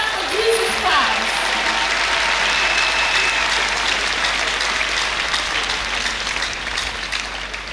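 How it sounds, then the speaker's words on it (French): Loud, sustained applause and acclamation from a church congregation praising Jesus Christ during a French-language spiritual warfare teaching, a dense wash of clapping with raised voices that holds steady for several seconds before easing slightly. "Acclamation à Jésus-Christ."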